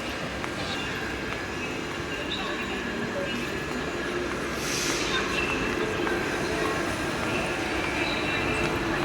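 Train at a station in Mumbai, with a steady broad rumble of railcars and a continuous wash of platform noise throughout, a brief hiss rising midway, and voices in the background.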